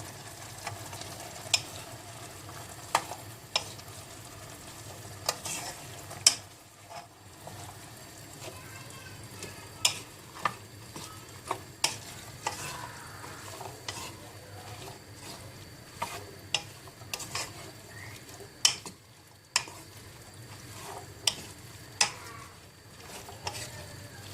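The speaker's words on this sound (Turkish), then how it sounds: "etimizle bir iki tur döndürdükten sonra kuru fasulyemizi ilave ediyorum" Boiled dry beans are stirred into meat in a cooking pot for a bean stew, with repeated faint scrapes and knocks of the spoon over a low sizzle, heard alone at modest volume.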